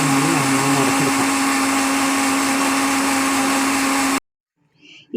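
A kitchen mixer grinder whirs loudly and steadily while grinding coconut for a mackerel tamarind curry, then cuts off abruptly, leaving near silence with a faint clatter.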